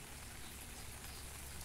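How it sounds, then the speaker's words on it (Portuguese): Heavy rain pours down steadily in the Agreste region of Pernambuco, Brazil, a dense, even hiss of drops drumming on surfaces, with no voices. "chovendo bastante, hein?"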